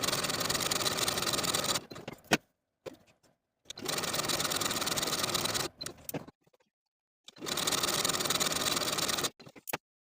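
A sewing machine runs basting stitches into a collar ruffle in three bursts of rapid mechanical whirring, each a couple of seconds long and separated by short quiet pauses with faint clicks.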